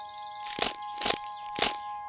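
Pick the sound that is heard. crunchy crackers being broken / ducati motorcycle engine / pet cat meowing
crunchy crackers being broken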